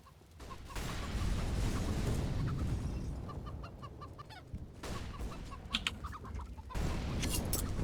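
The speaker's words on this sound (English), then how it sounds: "The chickens just won't shut up. You can hear the chickens just bucking about." Chickens cluck repeatedly on the Counter-Strike map Inferno, a busy chorus of bird calls close by, with a few sharp louder bursts of game noise breaking in.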